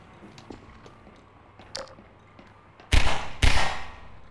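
Two loud, close pistol shots from the 18-round pistol in the video game Half-Life 2 fire about half a second apart over a quiet hum, preceded by faint clicks and a soft bump; no voices.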